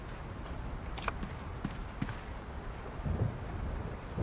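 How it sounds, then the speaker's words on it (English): Rain and rumbling thunder in the World of Goo 2 video game: a steady wash of rainfall with soft low rolls and a few brief cracks, all fairly faint and continuous. "In a city of endless night and constant rain."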